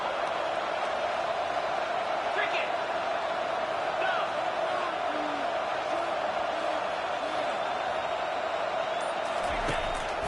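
A stadium crowd at an American football game roars during back-to-back quarterback sacks, a steady wall of noise that stays loud throughout, with scattered whoops and shouts rising above it.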